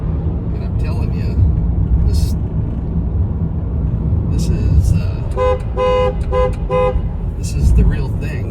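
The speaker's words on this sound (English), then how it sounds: "it is tradition when you go through this tunnel that you have to honk your horn" A Silverado EV pickup sounds its horn in a series of short, loud, clipped honks inside a tunnel, echoing over a steady road rumble while people talk inside the vehicle.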